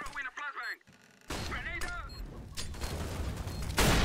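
Gunfire from a Counter-Strike: Global Offensive match, several bursts of shots and game effects crackling over a busy background while players talk in Portuguese.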